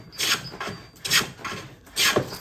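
A wooden hand plane jointing the edge of a board takes four or five rhythmic strokes, each a close, hissing scrape as shavings come off, with short pauses between passes.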